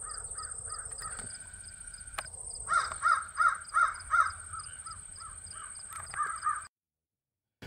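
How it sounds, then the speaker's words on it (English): A crow caws outdoors near water, first a few calls, then a rhythmic run of five loud caws and more calls later, fairly close against a quiet background. "That crow is there."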